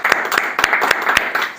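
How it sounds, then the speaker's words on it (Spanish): Church congregation clapping during a morning service, with loud, close, continuous applause and sharp individual claps standing out. "Así que le damos un aplauso a Dios en esta mañana,"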